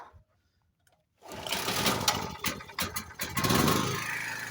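A generator engine starts up to power a 1K62 lathe: after about a second of near silence it catches and runs loudly with a steady, rapid, buzzing mechanical chatter close by.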